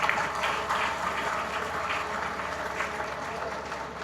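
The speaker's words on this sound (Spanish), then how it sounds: "pues creo que hay que darle un fuerte aplauso al maestro" Audience at an educational conference opening talk applauding the teacher, a steady, full round of clapping from a roomful of people, evenly sustained for several seconds.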